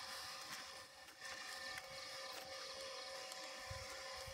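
An air blower motor inflates a welcome balloon at the Leuweung Cikanyere market by the Bukit Aquila camping ground, giving a steady, loud mechanical drone with a constant whine that runs unbroken through the whole stretch.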